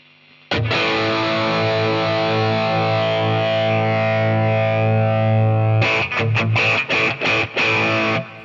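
A distorted Stratocaster through a Boss Katana amp with sharply boosted high mids and the gain turned up, playing a long sustained chord that rings for several seconds, then a burst of choppy, rhythmic stabs, loud and close with no talking.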